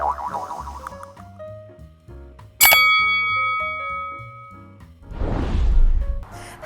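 A bright notification bell ding rings out sharply over a bouncy musical jingle with boing-like tones, followed by a whooshing swell near the end.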